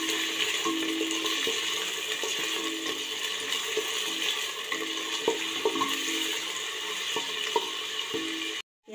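Onions fry with dried red chillies and bay leaves in hot oil, giving a steady, close sizzle with faint stirring clicks throughout and no talking.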